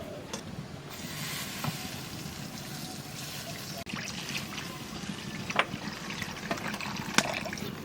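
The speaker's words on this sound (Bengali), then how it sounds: "এইবার জল দিয়ে দেবো" Water is poured into a cooking pot while making a Bengali dish, a steady gentle trickle and splash with a few sharper clinks, close and moderately loud over kitchen background.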